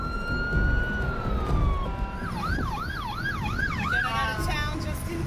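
A siren wails over traffic rumble during the Fort McMurray wildfire, first a long falling tone, then a rapid rising-and-falling yelp repeating several times, fairly close and loud.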